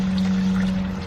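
Water from an opened stop valve on a hydroponic setup streams steadily through the pipework, a continuous close pouring rush with a constant low hum underneath, lasting about a second.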